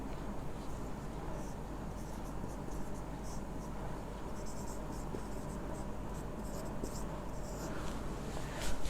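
Steady scratching of writing on a board runs continuously for several seconds, close and fairly faint over a hissy background, with occasional light taps as the stroke changes.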